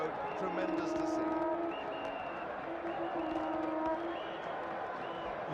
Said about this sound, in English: And the jubilation of the crowd, tremendous to see.